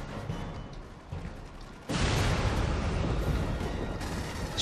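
Gunfire and a heavy blast in Aliens: Colonial Marines: a quieter rumbling stretch gives way to a sudden loud burst that continues as a dense, sustained roar of shooting and explosion noise.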